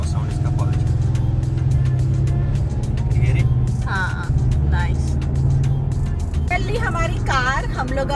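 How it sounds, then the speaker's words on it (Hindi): Porsche Cayman two-seater exhaust while driving, a steady low engine drone from inside the car throughout, with people talking over it. "पर इसी एग्जॉस्ट साउंड मुझे बहुत अच्छी लगी।"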